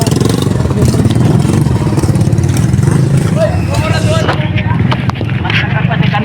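Many motorcycles crowd the streets at the opening of the Christmas lights in Tagum City, their engines rumbling and clattering continuously amid a loud, busy crowd with people talking throughout.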